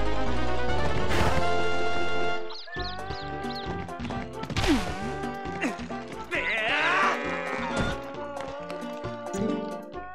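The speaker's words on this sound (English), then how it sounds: "These goats have been awful skittish lately." Goats bleat at a ranch in Zelda: Twilight Princess, several short game-animal cries layered over a busy musical score and sound effects, moderately loud.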